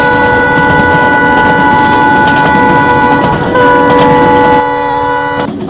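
Humsafar Express train running at speed in a train video game, with a steady engine drone and sustained horn-like tones carrying through, a brief louder swell, then a sudden drop near the end.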